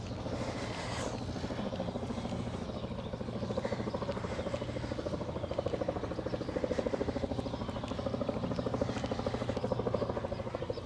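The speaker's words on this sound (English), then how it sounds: "Trying to spot the helicopter." A helicopter flies far off over Governors Island in New York City, a low steady rotor drone that stays faint and distant throughout with no talk over it.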